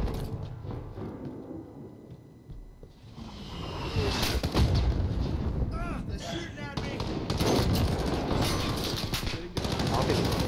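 Gunfire in Call of Duty Modern Warfare co-op play, with rapid automatic bursts and single shots clattering nearly nonstop, fairly loud, while players talk over it.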